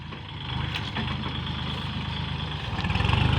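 A Kubota L4018 tractor plows a rice field in cool, wet soil, its diesel engine giving a steady, close, low rumble that grows slightly louder toward the end.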